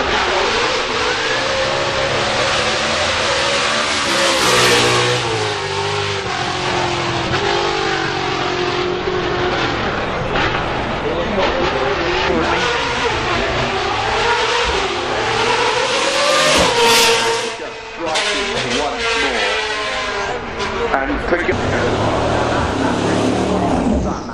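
Sadair's Spear, a brand new track-only hypercar, accelerating at the Festival of Speed: a loud, sustained engine roar rising and falling through gear changes, close and continuous for the whole stretch.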